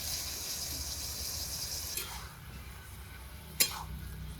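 Chopped tomato and turmeric go into vegetables cooking in a wok for a mixed sabji, with a faint sizzle, light stirring scrapes and two brief clanks of a utensil against the pan.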